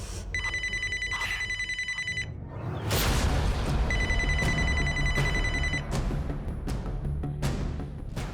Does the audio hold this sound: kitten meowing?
no